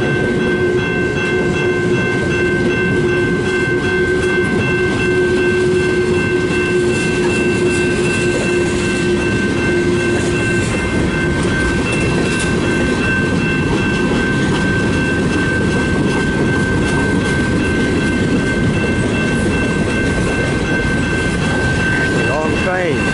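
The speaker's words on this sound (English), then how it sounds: "Long train." A long westbound CN freight train led by CN 2914 with distributed power unit CN 2887 rumbles past loud and close near the St. Clair Tunnel, a steady roar of wheels and cars with sustained tonal squeal throughout.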